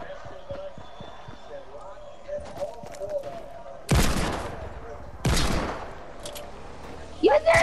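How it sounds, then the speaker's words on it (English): Minigun fire in a video game, loud sustained bursts of rapid fire in two long stretches over busy game noise, with players talking at points. "He got a mini gun!"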